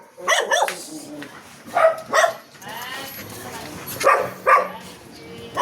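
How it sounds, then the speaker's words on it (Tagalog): A few dog barks ring out in short bursts, mixed with people talking nearby in an outdoor setting. "Pakulong muna ako ng mga aso."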